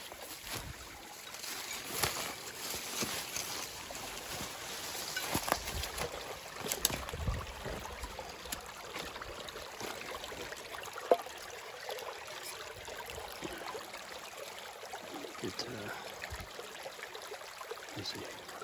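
Creek water flows steadily through woods in Pendleton County, West Virginia, a continuous broadband rush and trickle that stays close and even throughout, with no voices.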